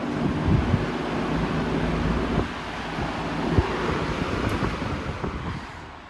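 Vintage Manning-Bowman electric fan running on high, a steady airy whoosh with a low motor rumble and faint rattles that fade slightly toward the end.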